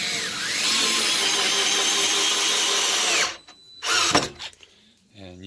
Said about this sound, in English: hold the trigger lock and go to screwing it down